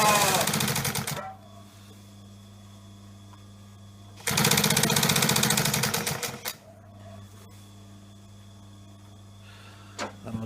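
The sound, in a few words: walking foot sewing machine sewing leather piping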